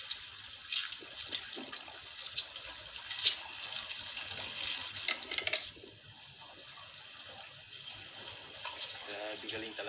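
Water pours and trickles steadily into a container holding a freshly caught giant grouper on a fishing outing, a continuous hissing flow that eases off partway through, with people talking over it.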